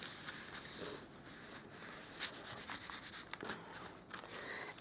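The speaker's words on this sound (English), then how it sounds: "So I'll just rub the embossing buddy all over this." An embossing buddy being rubbed over card before heat embossing, giving soft close scrubbing strokes in an uneven rhythm, quiet and with no talking.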